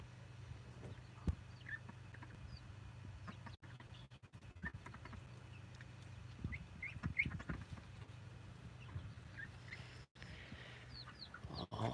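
A few baby chicks peep in soft, high, scattered chirps at close range over a low steady hum, with brief handling noises in between.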